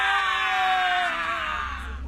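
A long, loud, strained scream like someone dying, one sustained high wavering cry that slowly falls in pitch, heard alone and close.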